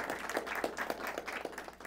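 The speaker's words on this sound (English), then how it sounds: "Give her a round of applause." Short burst of audience applause at a school debate round, brisk clapping from a modest crowd with distinct individual claps audible, close and moderately loud.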